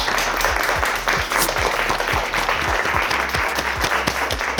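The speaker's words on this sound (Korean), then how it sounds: "박수로 맞아주십시오" Audience applause greeting a special guest at a Korean investment program's closing ceremony: steady, dense clapping from a crowd, loud and sustained throughout with faint voices underneath.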